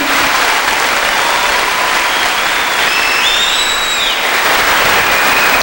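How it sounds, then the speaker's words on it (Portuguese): A large audience at a Catholic church gathering bursts into loud, dense applause, a continuous wash of clapping lasting several seconds with faint whistles over it. "vou aplaudir"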